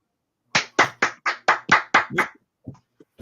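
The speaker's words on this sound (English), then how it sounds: "Michelle's clapping" A single person claps eight times in a quick, even rhythm, each clap sharp and close, followed by a few faint, scattered small sounds in an otherwise quiet room.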